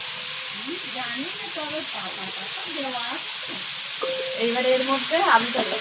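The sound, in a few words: frying shrimp and taro greens in oil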